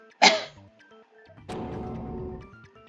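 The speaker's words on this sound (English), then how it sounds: "I got a cough." A single sharp, loud cough near the start, followed by a quieter throat-clearing sound about a second later, set against soft background music in a video game.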